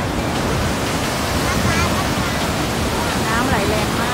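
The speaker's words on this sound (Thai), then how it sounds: "น้ำไหลแรงมาก" Rushing river water roars steadily and loudly at Kaeng Suea Ten rapids in flood, a dense continuous wash like a strong current, with no pauses throughout.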